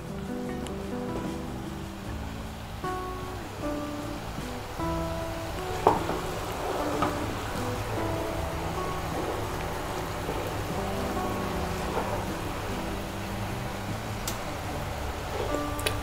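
Sugar syrup for badusha boils steadily in a pan, a busy bubbling and crackling, close and continuous, with faint clicks and no talking.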